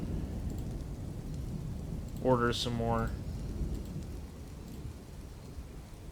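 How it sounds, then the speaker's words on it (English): Steady rain and rumbling thunder from the Dwarf Fortress video game fill the background, with someone briefly talking over it midway. "Oh, I like those rain sounds."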